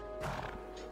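A horse in the video game Minecraft Legends gives a short, close whinny with a brief hoof clatter, heard over a steady game background hum.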